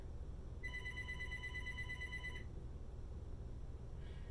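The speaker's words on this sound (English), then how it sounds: "I don't know who keep calling the phone." An electronic telephone ring, a bright warbling tone lasting about two seconds over a low steady background hum, then a faint brief chirp near the end; no one speaks.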